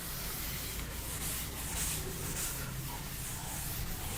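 Steady rubbing of a blackboard being wiped clean in a mathematics lecture on eigenvalues, a continuous dry scrubbing texture held at even loudness for about four seconds with no talk over it.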